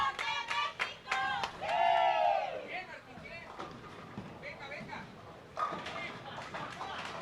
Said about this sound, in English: love the cheering section here from Mexico